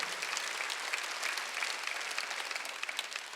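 Applause from a church congregation during a Sunday worship service, continuous crowd clapping at moderate loudness, a dense steady patter lasting the whole stretch without a break.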